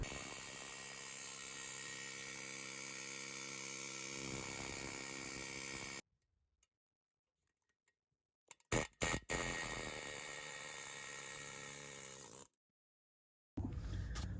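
A compressor-fed air impact tool works on lug nuts in long, steady whining bursts, close and loud, cutting off abruptly between runs with short rattling clatters and stretches of silence.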